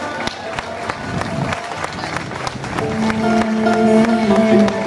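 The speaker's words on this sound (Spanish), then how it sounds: "Fuerte el aplauso para recibir a Cintia" A crowd at a pageant claps for a queen of La Corvina Negra. The claps are sparse and scattered at first, then build into fuller applause mixed with crowd noise and a sustained musical tone, and talk is heard over it.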